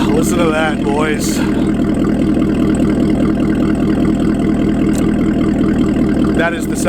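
A Corvette C7 ZR1 supercharged V8 idles steadily with a deep, even rumble throughout, running smoothly without misfires; someone speaks briefly over it at the start and end.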